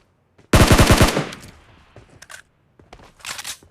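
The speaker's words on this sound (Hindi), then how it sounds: "इतने में मुझे पीछे से भी एक फायरिंग आती है।" A close, loud burst of rapid automatic gunfire from the video game PUBG during a fight in Pochinki, followed by scattered fainter shots, clicks and a second softer burst.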